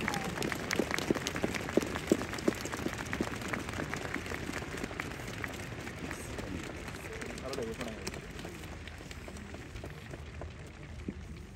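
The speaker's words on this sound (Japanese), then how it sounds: "皆様、岡崎選手に盛大な拍手をお願いいたします。" At a Montedio Yamagata post-season ceremony after a J2 League match, a stadium crowd applauds a retiring footballer, a distant, sustained roar of clapping mixed with crowd murmur, with some crisper nearby claps early on.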